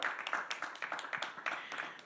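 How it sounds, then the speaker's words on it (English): Audience applause at a youth climate change event, a brief burst of rapid hand clapping from a crowd, moderately loud and steady for about two seconds. "Let's give her a round of applause."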